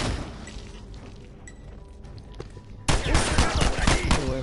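Gunfire in an online shooter match rings out over steady game ambience, then bursts into a loud, dense volley of shots near the end.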